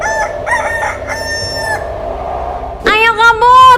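A black chicken clucks and crows loudly up close in repeated bursts, then a sharper burst of squawking calls follows near the end.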